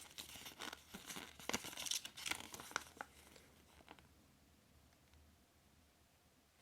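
A paper user manual leaflet for a TeckNet wireless keyboard and mouse set crinkles and rustles as it is unfolded and handled, quiet and close, in bursts that fade to near silence.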